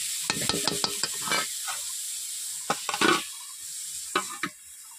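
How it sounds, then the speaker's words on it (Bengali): Potatoes fry in a pan for a couple of minutes over a low flame before the gima shak greens go in, giving a steady sizzle broken by several sharp stirring clatters and scrapes, with no talk. "প্রথমে আলুগুলোকে আমি দু মিনিট মতো আমি আগে থেকে ভেজে নিচ্ছি আলুগুলোকে"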